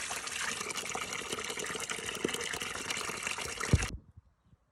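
Water pumped from a well pours in a steady, gushing splash with drips, loud and continuous, then cuts off abruptly near the end leaving near silence.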